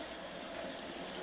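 Hot tap water runs steadily from a faucet while squirrel meat is rinsed, a soft, even hiss of flowing water that is faint and continuous and heard alone.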